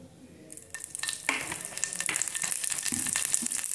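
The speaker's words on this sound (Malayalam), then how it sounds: "കരിവേപ്പിലിട്ട് വച്ചിട്ടുണ്ട്. പിന്നെ അതിലേക്ക് വെളിച്ചെണ്ണയാണ് ഒഴിക്കുന്നത്." Curry leaves crackle and sizzle as coconut oil is poured into a pan for tempering, a bright frying hiss starting faint and swelling into a steady close sizzle with a few stirring clinks and no voices.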